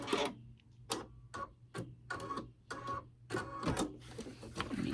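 An embroidery sewing machine stitches with a bobbin problem, giving an uneven run of loud mechanical bursts and knocks with short pauses between, close by, with no voices.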